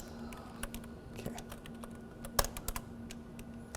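Typing on a computer keyboard at a machine learning workshop, irregular clusters of sharp key clicks with one louder strike midway, fairly quiet against a faint steady hum, no speech.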